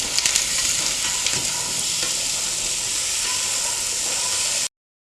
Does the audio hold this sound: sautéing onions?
yes